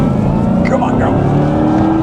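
A Corvette E-Ray accelerates around a race track lap, its engine giving a loud, steady droning roar heard from inside the car.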